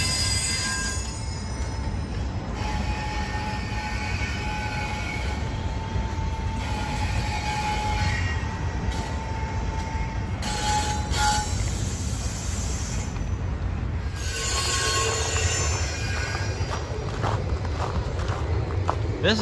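A long Ayer-bound intermodal freight train rolls close by, making setoffs at the Mechanicville terminal in upstate New York, its wheels squealing in sustained high tones over a constant heavy rumble of railcars.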